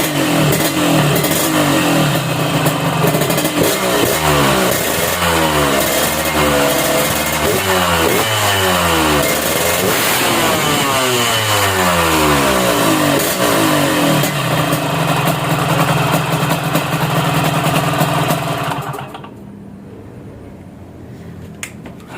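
Motorcycle engine idling and repeatedly revving while the carburetor mixture is tuned, a loud, close, steady rumble rising and falling through several throttle blips before cutting off near the end.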